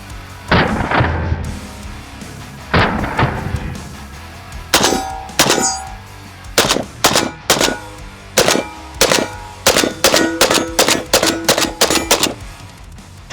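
Bursts of bump fire from a hybrid AK-47 and PPSH-41 gun, loud cracking shots in irregular clusters that speed into rapid strings of reports, close and sharp with metallic clang.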